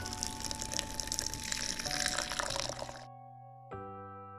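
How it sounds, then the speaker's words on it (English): Cooled green tea poured into a blender jar, a steady close splashing trickle with background music that cuts off abruptly near the end. "Now it's time to pour the cooled green tea into the blender jar."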